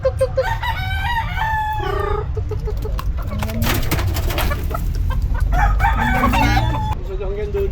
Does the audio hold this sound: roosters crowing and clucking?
yes